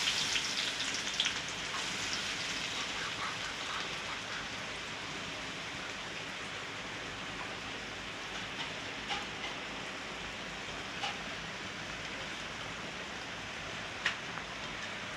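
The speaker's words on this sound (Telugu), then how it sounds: "ఇప్పుడు ఆనియన్స్ వేసేస్తున్నా." Sliced onions sizzle in about three spoons of hot oil for a restaurant-style chicken curry, a steady dense hiss with faint pops and crackles throughout, close and without talk.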